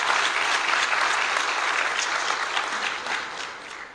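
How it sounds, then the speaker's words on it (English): Sustained audience applause at a public transit event unveiling the Lone Star College Connector, a dense, steady wash of clapping from a crowd that holds level before easing off slightly at the end. "giving him a round of applause for his efforts to get this here"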